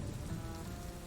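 Steady rain falls on a surface in a dense, continuous patter with a low rumbling undertone, even and moderately loud throughout with no voices.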